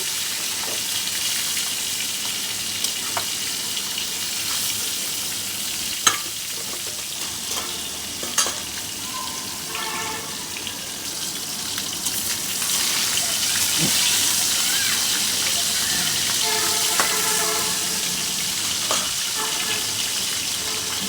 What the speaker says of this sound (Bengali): সুন্দর একটা কালার আসা পর্যন্ত আমি মাছগুলিকে ভেজে নেব।